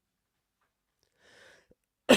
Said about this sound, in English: If I've just coughed in your ear, I'm sorry.